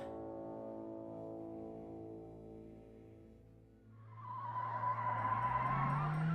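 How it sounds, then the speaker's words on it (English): A car slides around a corner, its engine droning steadily before a rising tire squeal and skid take over, fairly close and without speech. "The car slid around the corner, rear tires barely missing the curb"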